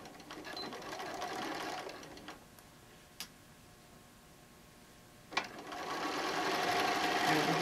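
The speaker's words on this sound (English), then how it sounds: "we're just going to sew across" A sewing machine runs a 1 inch seam across a wine bottle bag with zippered handles: a steady run, a pause broken by a click or two, then a louder, sustained stretch of stitching to the end.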